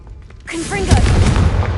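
A Confringo blasting spell from Hogwarts Legacy bursts into a loud, sustained boom with crackling debris, following a short spoken incantation, the explosion rumbling on close and heavy to the end.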